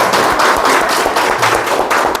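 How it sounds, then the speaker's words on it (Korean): Applause from a congregation at a Korean Won Buddhist temple gathering, loud close clapping with irregular individual hand claps and low thumps, brief and fairly energetic. "박수 한번 주세요"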